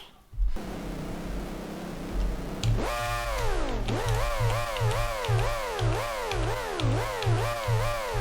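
Simulated Formula One race car engines from an F1GP mod for the AMS1 racing game, recreating the 1991 DOS sim, roar up at the start, pitch climbing and dropping repeatedly through gear changes, loud and steady with no voices.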